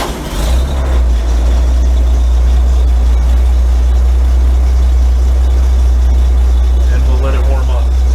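A small carburetted engine, freshly started after primer was added to the carburetor, idles steadily and loudly with a deep continuous rumble throughout, while a voice talks over it.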